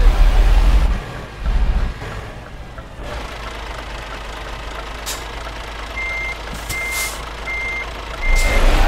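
Scania truck in Euro Truck Simulator 2 reversing, its backup alarm giving steady evenly spaced beeps over a low diesel rumble, with a couple of brief hissing air bursts.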